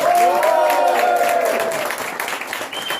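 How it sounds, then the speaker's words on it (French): Audience applause at an improvisation show, a dense burst of clapping with a few cheers at first that gradually thins and fades toward the end. "Je demande un gros applaudissement de votre part."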